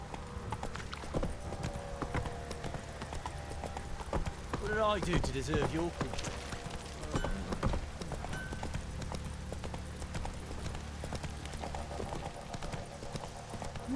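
Roach the horse galloping in The Witcher 3, rapid clip-clop hoofbeats running throughout with game music, under a man's dialogue.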